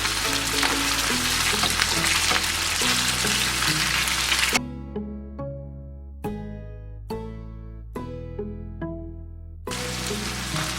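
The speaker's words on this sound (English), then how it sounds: "The ground beef has been cooking about 3 or 4 minutes, and now I'm going to turn it over one portion at a time" Ground beef sizzles steadily in a hot pan for several seconds, a dense frying hiss that gives way to scattered pops and crackles over a gentle melodic background before the hiss returns.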